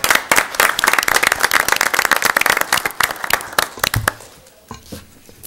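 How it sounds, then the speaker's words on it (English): An audience at a village board of trustees meeting applauds the color guard with a burst of brisk, dense clapping that tapers off into a few scattered claps and quiet room noise. "Let's give them a round of applause."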